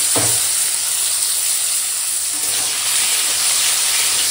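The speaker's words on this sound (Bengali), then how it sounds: "এখন তেল গরম হয়ে গেছে, দিয়ে এখন মিষ্টি কুমড়োটা তেলের ওপর দিয়ে দিলাম" Slices of sweet pumpkin hit hot oil in a home kitchen pan, setting off a sudden loud sizzle that settles into a steady close frying hiss, with a brief stir partway through.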